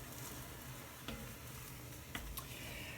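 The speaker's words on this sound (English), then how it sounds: "we're not trying to fully cook it, we're just trying to brown it" Straight beef mince browning in a pan for a pressure-canned bolognese, giving a steady close sizzle with occasional scraping stir clicks.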